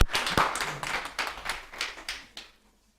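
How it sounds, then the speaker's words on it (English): A small group at a spiritualist medium workshop claps in a light, sparse round of applause, with distinct individual claps that fade out within a few seconds. "let's give Sharon a big round of applause"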